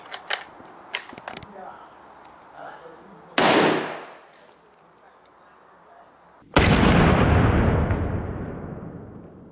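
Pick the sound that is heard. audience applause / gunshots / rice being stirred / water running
gunshots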